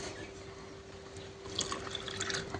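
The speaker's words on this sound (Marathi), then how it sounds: "ते मी थंड पाणी घालून घेतलेले आहे" Cold water is poured into orange sherbet in a home kitchen, a soft liquid trickle and splashing that grows busier in the second half, close and fairly quiet over a faint steady hum.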